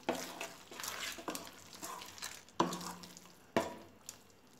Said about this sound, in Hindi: इनो को भी अच्छे से मिक्स कर देंगे धीरे धीरे।